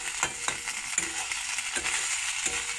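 Potatoes fry in a pan with a steady sizzle, broken every half second or so by the scrape and clatter of a utensil stirring them, close and alone without talk.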